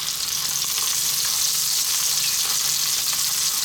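Prawns sizzle steadily in a hot pan over medium heat, a loud, close, continuous crackling hiss with no voices.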